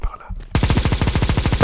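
In CS GO a machine gun opens up after a brief quiet moment, firing a rapid, steady stream of loud, close shots that continues to the end.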